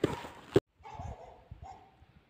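Village dogs in a snowy, frozen rural settlement give a couple of sharp barks, followed by softer yips and whimpers at moderate distance.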